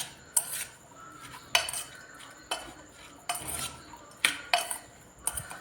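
Sliced onions being mixed by hand with other ingredients in a bowl for onion bhaji. A spoon scrapes and clinks against the bowl in separate close, sharp strokes about a second apart, with quiet rustling between them.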